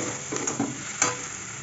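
A spoon stirs soft-cooked potatoes, carrots, tomatoes and green chilli in a pan, giving gentle scraping and light sizzling with a couple of soft knocks, close and fairly quiet.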